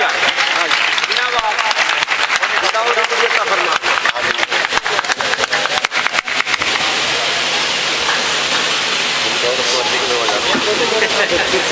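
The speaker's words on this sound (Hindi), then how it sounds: "तालियां बजाते रहिए" Sustained audience applause at a mushaira, an Urdu poetry gathering in Pipalsana, Moradabad, for a poet. The clapping is dense and loud throughout, with talk running under it.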